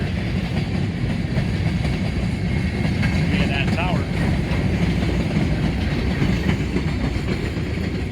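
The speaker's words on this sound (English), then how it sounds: "And that long empty coal train heads south." A long empty coal train rumbles steadily past at Greenwich, Ohio, with continuous rolling noise and faint clatter, while a person briefly speaks over it.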